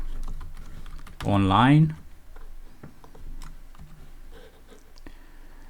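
Code being typed on a computer keyboard, scattered light key clicks in an uneven rhythm, close, with a brief spoken word partway through.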